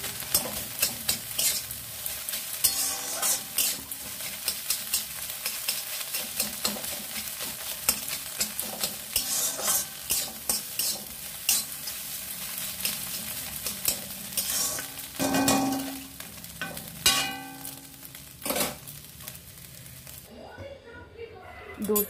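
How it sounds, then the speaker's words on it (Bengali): Momo filling seasoned with black pepper being stirred and fried in a pan, with steady close sizzling and repeated scraping strokes of a spoon against the pan. "এবার ভালো করে মিশিয়ে নেব।"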